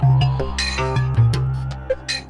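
Korg Wavestation synthesizer sounding its Ski Jam performance from a single held key, a bright layered patch with a rhythmic sequence of bell-like plucks and shifting tones over a steady low note.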